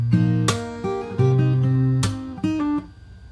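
A fingerstyle acoustic guitar plays the last bar of a section, plucked notes and chords with two sharp percussive slaps, close and clear with no voices.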